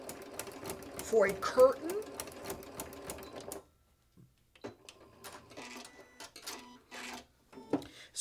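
A Janome sewing machine fitted with a ruffler attachment runs in a steady mechanical chatter, pleating fabric for a curtain, then stops and gives way to quieter clicks and handling; a person speaks briefly during the stitching.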